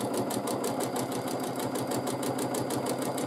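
A sewing machine running at speed for free motion quilting arch-based filler designs, a fast steady mechanical rattle with a regular pulsing rhythm, close and continuous with no talk.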